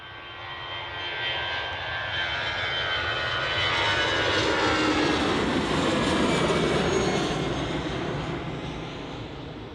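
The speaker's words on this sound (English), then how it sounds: "next departure is a EasyJet off to Charlie de Gaulle" An EasyJet airliner departs Manchester Airport, its jet engines a broad, steady roar that swells toward the middle and eases off toward the end, with no talking.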